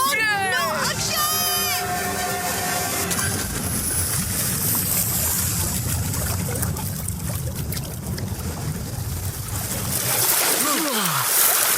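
People jump into clear water, with splashes and churning water under a busy outdoor backdrop, birdlike whistles early on and voices mixed in throughout.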